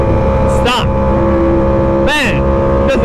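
A Yamaha R1M motorcycle engine with auto blip gives three sharp, loud revs in quick succession over a constant close engine drone, with a person talking.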